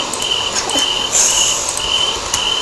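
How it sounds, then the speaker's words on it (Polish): Outdoors, a single cricket chirps in regular, evenly spaced bursts, clear and fairly close, above a faint hiss of open-air background, with no voices. "Świerszcz tutaj, o matko, świerszcz nam śpiewa."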